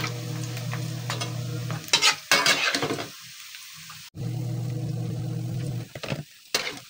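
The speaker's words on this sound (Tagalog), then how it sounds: "Iprito din natin ito hanggang mag-golden brown katulad ng ating tokwa" Pork frying in plenty of hot oil for sisig, a steady close sizzle broken midway by stirring and lifting of the pieces, then the sizzle resuming strongly, with no talking.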